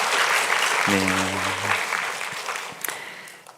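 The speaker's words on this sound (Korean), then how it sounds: "우리 박수로 격려하겠습니다." Congregation applause during a Sunday church service, a broad wash of clapping across the whole stretch that gradually fades, with a brief spoken word in the middle.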